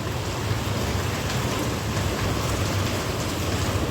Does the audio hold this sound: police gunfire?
no